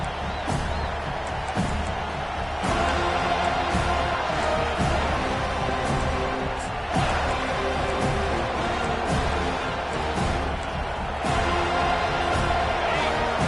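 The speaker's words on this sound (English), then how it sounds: "This crowd trying to make life miserable for this offense." Stadium crowd roar in the NCAA 25 college football video game, a steady loud wash of cheering with rising swells and thumps, mixed under game sound and commentary.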